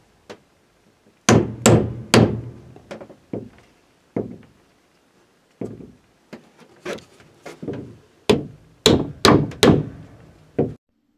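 Hammer blows fastening an interior door frame while doors are set and shimmed: sharp, loud strikes close by, in irregular bursts of two or three with short pauses, about a dozen hits in all, no talk.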